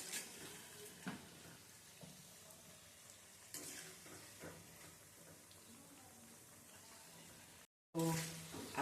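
Pea-peel pakodas (bhajiya) deep-frying in oil for a Gujarati recipe, giving a steady close sizzle with occasional stirring clicks and pops, cut by a brief silent gap near the end.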